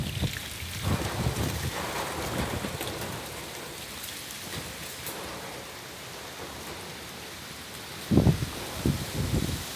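Strong wind sweeping across rural countryside at night, gusting past trees around a farmhouse over dry earth. A steady, loud rushing roar fills the whole clip, with a few heavier buffets toward the end.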